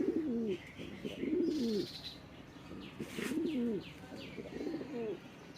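A male pigeon coos repeatedly up close in a farm loft, rhythmic throaty rolling calls about once a second, with faint chirps and rustling behind.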